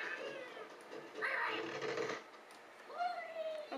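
A house cat meows repeatedly to be let in, its cries rising and falling over a few seconds while a person talks nearby.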